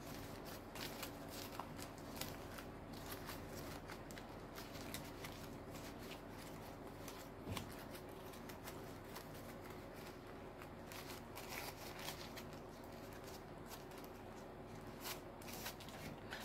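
Thin plastic cover strips are spread apart by hand to form flower petals, giving a steady close rustle of crinkly shuffling and crackling that runs the whole time with no talk.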